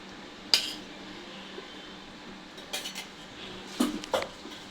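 Utensils scrape and clink against a bowl while flour is worked together with ghee for madatha kaja, faint and sparse, with a few sharp knocks spread across a quiet background.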